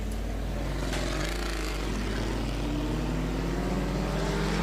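Stock cars race around an oval track, their engines a loud steady drone with a rough, misfiring note from one car, heard continuously without voices.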